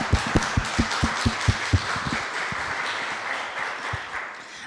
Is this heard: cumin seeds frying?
no